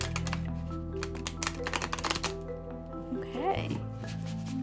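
A brand-new Botanica tarot deck by Kevin J. Stanton being shuffled by hand, a run of quick crisp card riffles and flutters followed by a brief softer patter, with a steady low hum underneath.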